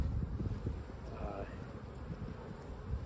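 A faint, low hum of honeybees drifts around an open Layens hive outdoors, soft and steady against light wind noise on the microphone, with no clear voice on top.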